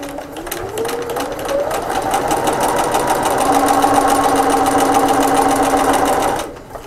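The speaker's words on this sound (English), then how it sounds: "all you're doing is stitching around the curved part of the ear, leaving that part open" A sewing machine stitches steadily around the curved edge of a fabric toy mouse ear, its motor whirring loud and close without pause for several seconds before stopping.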